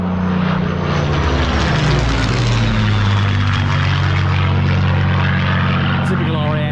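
A Rolls-Royce Merlin-engined propeller aircraft flies past at an MG centenary gathering at Gaydon, its loud, rich engine roar swelling and shifting in pitch as it passes close overhead, continuous throughout.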